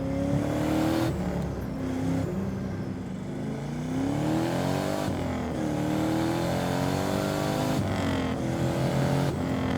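A lightweight 600 hp turbocharged BMW E36 drift car with an iron-block engine accelerates hard, its engine note rising through several gears with brief dips at each shift, loud and close throughout.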